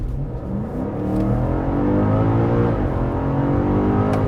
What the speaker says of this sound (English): So now I'm in a fully normal, efficient, comfort four-wheel drive. Get a nice high gear, just gonna floor it.